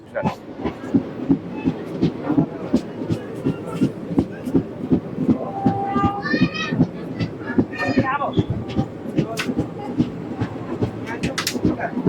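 Rhythmic clickety-clack of the Upasana Express wheels over rail joints arriving at Moradabad Junction, with a few high brake squeals midway and muffled voices in the background.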